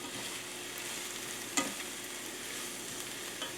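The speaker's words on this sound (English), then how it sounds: "Again, we're going to stir all of the things together, get a little bit of oil on everything so it can cook." Finely chopped vegetables fry in oil for an omelet, giving a soft, even sizzle with one sharp scrape of a spoon or spatula stirring the pan, and no voices.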